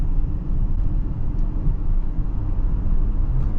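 A 2023 Audi Q8 cruises at about 55 km/h, heard from inside as a steady, loud low road and engine rumble with tire noise, unbroken and without voices.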